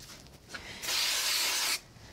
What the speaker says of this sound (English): I'm going to use a little bit of spray glue.